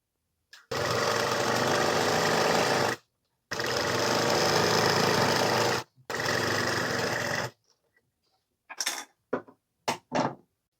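A sewing machine stitches the folded bottom hem of a kitchen apron in three loud bursts of whirring separated by brief stops, followed by a few short clicks and knocks as the fabric is handled.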